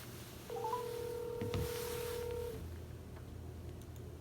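A telephone tone sounds over a quiet room hum, a steady held note lasting about two seconds with a short higher blip near its start, as a call is being placed.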